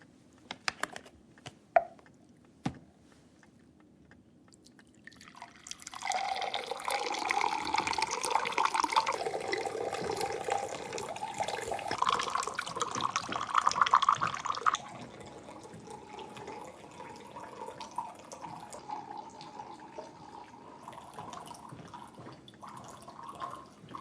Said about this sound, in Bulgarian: Кука, сипи една вода.